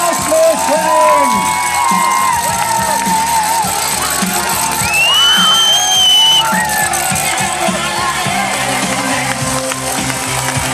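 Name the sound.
crowd applauding and cheering the triathlon winner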